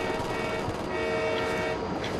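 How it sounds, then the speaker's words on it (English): A passing train in the video game Ghost Recon Wildlands gives a steady, loud rolling rumble with a tonal hum throughout the short stretch, heard alone. "That train."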